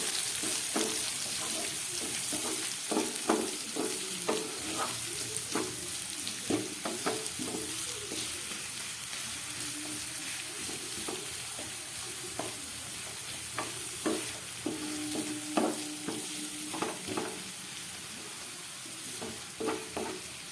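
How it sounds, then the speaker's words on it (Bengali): Onion, ginger, garlic and green chilli fry gently over a low flame, giving a continuous soft sizzle with frequent scraping and tapping of a spatula stirring against the pan. "গ্যাস কমিয়ে পেঁয়াজ, আদা, রসুন আর কাঁচা লঙ্কাটাকে 1 মিনিটের মতো ভেজে নিলাম"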